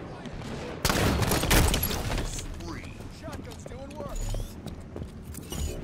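Shotgun gunfire in a multiplayer shooter game, a dense burst of loud shots early on followed by scattered, quieter impacts and movement sounds, with voices talking over parts of it.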